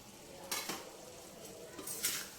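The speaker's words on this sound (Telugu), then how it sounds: "ఇప్పుడు ఎండు రొయ్యలు వేసుకుందాం." Dried shrimp tossed into a pan of ridge gourd fry, giving a soft steady sizzle with two brief scraping bursts of a spatula stirring, faint and close.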